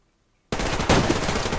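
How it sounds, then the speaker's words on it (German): Gunfire in the video game Survarium bursts in suddenly after a brief silence, a loud, rapid rattle of shots with a sharper crack midway, continuing to the end with no talk. "irgendjemand schießt hier die ganze Zeit auf mich"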